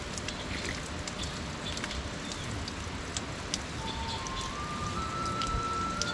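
Light drizzle falling on a rainy-season trek through the Uttarakhand hills, a continuous soft hiss of fine raindrops with scattered small ticks and patters, steady and moderately close.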